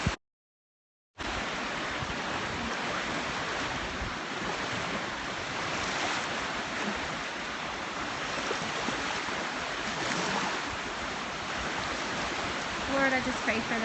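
Ocean waves at sunset on the Florida coast, a steady broadband wash of surf with some wind buffeting the microphone, continuous and fairly close after a brief silent start.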